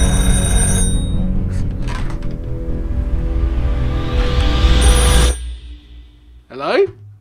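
An old-school KFC novelty telephone rings loudly and continuously with a bright, buzzing bell for about five seconds, then cuts off, followed by a brief voice answering.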